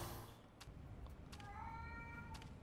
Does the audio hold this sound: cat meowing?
yes